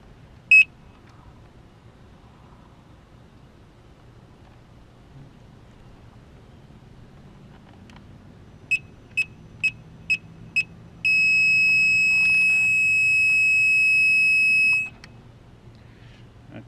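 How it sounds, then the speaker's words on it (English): A Gotway Msuper V3 electric unicycle gives an isolated chirp, then a quick series of five short, sharp beeps, followed by a long steady high-pitched tone lasting several seconds, in a quiet setting. "not sure what that beep series means"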